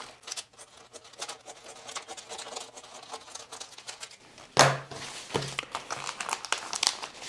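Plastic vacuum sealer bag handled and cut with scissors, close crinkling and rustling throughout with a louder crackling snip midway and a few more crisp cuts after.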